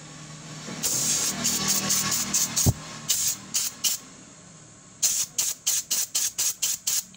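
Nitrogen gas hissing out of an opened valve on a junkshop National refrigerator under repair, a steady broadband hiss that breaks into a run of short, evenly spaced bursts, fairly close and loud.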